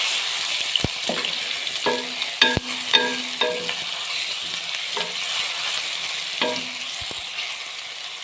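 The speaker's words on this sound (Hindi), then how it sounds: "ये देखें प्याज हमारा थोड़ा थोड़ा सा गोल्डन ब्राउन हो रहा है। अब हम इसमें अदरक लहसुन का पेस्ट डालेंगे।" Golden-brown onions sizzle steadily in a pan as ginger garlic paste goes in, with a constant frying hiss broken by several sharp spoon scrapes and clinks from stirring.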